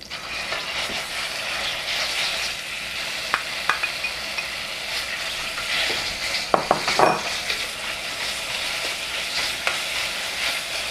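Stir-frying in a wok as Szechuan bean sauce goes in with garlic and ginger, a loud steady sizzle with scraping stirs and a few sharp clanks of the spatula near the end.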